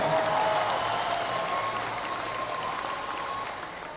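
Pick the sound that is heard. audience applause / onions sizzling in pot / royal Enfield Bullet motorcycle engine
audience applause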